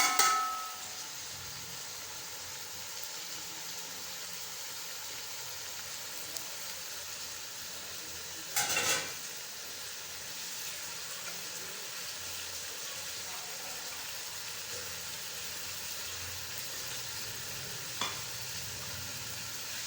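Spices frying in a pot for chicken pilau, a soft continuous sizzle with a couple of brief louder scrapes from stirring, no talk.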